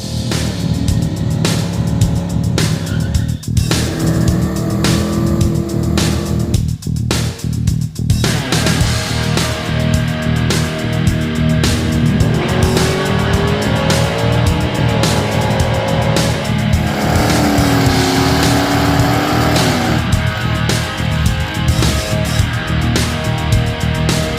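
A big block Ford Foxbody Mustang, an 83 GT, drives with a loud, steady engine roar throughout, its pitch rising and falling as it accelerates and shifts, with no talking.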